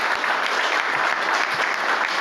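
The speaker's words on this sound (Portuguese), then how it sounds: "Uma salva de palmas pro Melão." An audience at a pre-candidate forum applauds a candidate with sustained, dense clapping from a crowd that fills the room evenly throughout.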